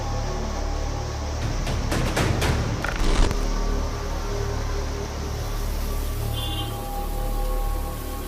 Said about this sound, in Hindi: उत्तराखंड में भारी बारिश का कहर।